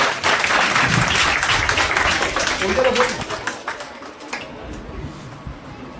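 Applause from the audience welcomes the village council chief's representative at a school farewell and honour ceremony: loud, dense clapping at first that thins and fades into scattered claps and room noise.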